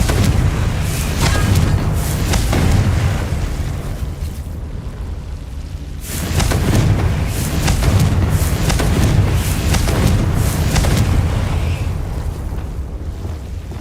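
Confringo blasting spells fire in Hogwarts Legacy, throwing out heavy, booming explosions in two long loud bursts with a short dip between them, full and rumbling, with no voices.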